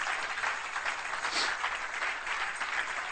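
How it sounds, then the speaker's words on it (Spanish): A church congregation applauds during a sermon, a dense, steady burst of clapping that stays at an even level for a few seconds without any voice over it. "Dale un aplauso a la gloria de Dios."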